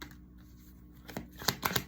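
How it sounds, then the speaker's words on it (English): Tarot cards being shuffled, a few quick crisp riffling bursts near the end after a quiet stretch, close and soft. "I thought I shuffled."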